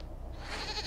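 A goat bleats in the video game Dragon Age Inquisition, one short nasal cry that swells near the end, heard alone and fairly quiet.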